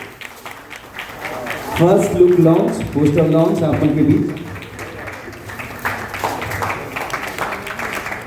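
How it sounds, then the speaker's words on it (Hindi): A crowd claps and applauds at a Chhattisgarhi film's first-look poster launch, a burst of clapping rising beneath an announcer's amplified voice and fading after a few seconds while talk continues. "जोरदार ताली हो जाए"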